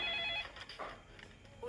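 A telephone rings with a couple of short electronic bell bursts, fairly quiet, with no talking in the clip.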